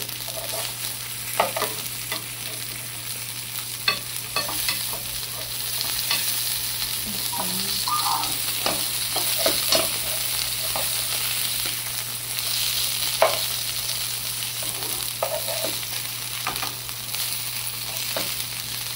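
Fish fries in a pan with a steady, moderate sizzle and spitting oil, punctuated by light clicks and scrapes of a utensil, with no voices present.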